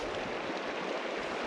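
Meltwater rushes out from beneath a glacier at the Puruogangri ice field in Tibet, a steady nearby gush of flowing water with no voices.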